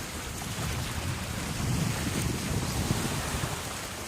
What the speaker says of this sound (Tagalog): That's the beach. This is Pinagboyatan Island.